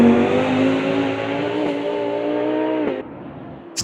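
Race car engine in Automobilista 2 holds a loud, steady high rev with layered harmonics, then a sharp gear shift near the end drops the pitch before the engine picks up again.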